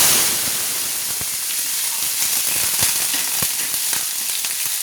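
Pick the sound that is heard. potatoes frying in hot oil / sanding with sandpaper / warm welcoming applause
potatoes frying in hot oil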